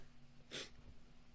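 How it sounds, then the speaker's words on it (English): A single big human sneeze bursts out sharply and briefly in an otherwise quiet room, close and sudden, with faint breathing before and after. "that was a pretty big sneeze."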